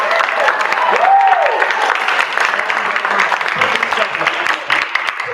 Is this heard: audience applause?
yes